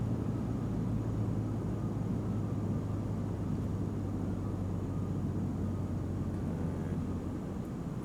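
A Piper Warrior light airplane lands on a runway. Steady low engine drone and broadband wind rush fill the whole stretch at an even, moderate level.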